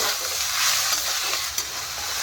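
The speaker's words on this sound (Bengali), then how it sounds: "এখন এটা শাকটা একটু ভালো করে ভেজে নেবো" Greens fry in a pan with meat masala, coriander powder and chili powder, giving a steady close sizzle with stirring scrapes throughout and one sharper clatter near the end.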